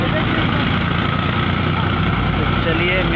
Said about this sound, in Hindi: फिलहाल ट्रैक्टर पकड़ रहा है रेस।